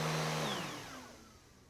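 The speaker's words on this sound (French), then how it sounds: "je dois passer l'aspirateur" A household vacuum cleaner whines loudly indoors and then winds down, its pitch sliding lower as the motor stops, followed by a soft click.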